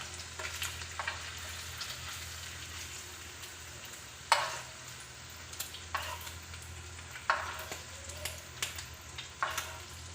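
Chicken pieces sizzle steadily in a hot pan while being cooked for restaurant-style chicken fried rice, with occasional sharp scrapes and clicks of a utensil turning them; no one speaks.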